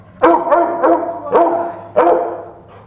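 Energetic Labrador retriever barking up close, five loud sharp barks in an uneven burst over a quiet room, with no talk.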